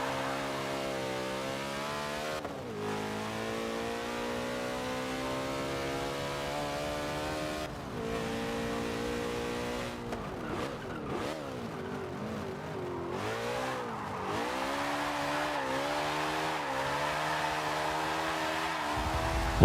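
A car drifting in Forza Motorsport 7, a Porsche 918: a sustained high-revving engine whine that holds steady, then dips and surges with gear changes and tire scrub midway before climbing again, loud and continuous with no talk.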